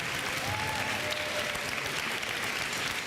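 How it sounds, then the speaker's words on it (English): Applause from an audience at a fall sports ceremony for an absent honoree, Mr. Klein: a steady, dense wash of clapping that fills the whole stretch at an even level, with no talk over it. "let's give him a round of applause"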